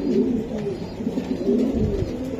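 Racing pigeons kept for sale coo continuously in low, throaty rolling calls, several birds overlapping close by with no talk.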